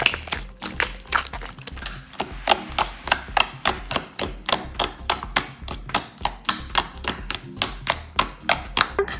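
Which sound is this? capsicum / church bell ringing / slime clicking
slime clicking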